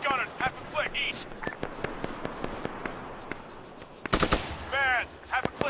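Arma 3 mountain battle with machine gun fire: sharp cracking shots in irregular bursts, some close and some more distant, over a bed of insect chirps, with a voice calling out over the fire.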